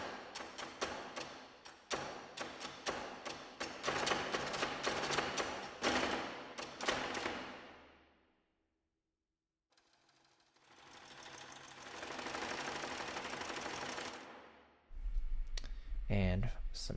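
Rim hits from a percussion sample library ring out in a rapid series of sharp clicks, a pause of silence, then a denser burst of rim strikes ending with a heavier thump.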